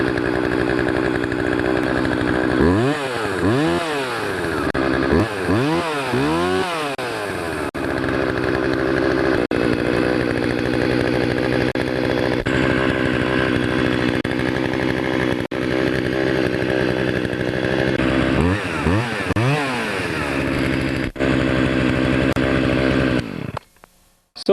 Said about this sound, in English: I'm going to start it up just to show you that it does run with that fuel line configuration.